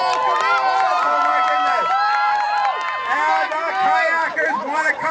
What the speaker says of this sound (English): Give them a cheer. Cheer for your team.